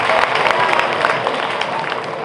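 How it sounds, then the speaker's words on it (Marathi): Schoolchildren and teachers at a school Independence Day celebration clap together, a dense, steady wash of applause from a crowd that holds for the whole stretch without pausing. "त्यांचं सर्वांनी टाळ्या वाजवून या ठिकाणी स्वागत करायचं आहे"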